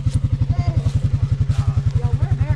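A vehicle stuck in ice after an ice storm, its wheel not spinning, with the engine roaring in a fast, steady pulsing throb that is loud and close throughout.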